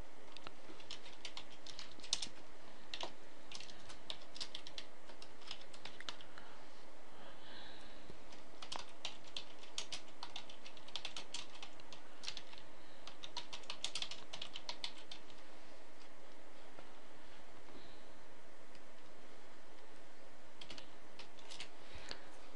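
Code typed on a computer keyboard, a long run of soft, close key taps in uneven bursts with short pauses, quiet and alone over faint room hiss.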